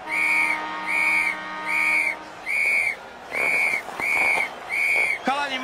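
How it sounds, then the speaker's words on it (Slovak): A new whistle is blown in seven evenly spaced, loud shrill blasts, each about half a second long, followed by a brief warbling trill at the end. "Chalani, mám novú píšťalku."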